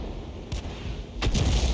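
Artillery fire from a 105 leFH18B2 gun in the World of Tanks video game, two or three sharp booming shots within under two seconds, fairly close, with a rumbling tail after the last.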